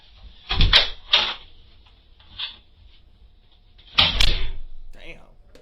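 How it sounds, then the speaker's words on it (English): A door opening and closing indoors, with a few sharp knocks and thuds and a louder broadband burst near the end; talk is mixed in. "why the door audio loud?"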